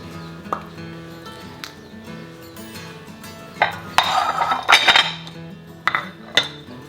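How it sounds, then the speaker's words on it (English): Baked pumpkin pies being cut, a knife and server clinking against the pie dishes in a handful of sharp, close metallic clicks and scrapes, clustered in the middle and near the end, over a low kitchen hum. "Let's go ahead and slice into them and see how they taste."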